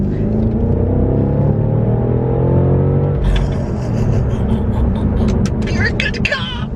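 An Alpina B5 Bi-Turbo, a 600 bhp luxury saloon, accelerates hard with its engine revving and rising in pitch, loud and close, before shifting into a rougher roar with someone talking over it.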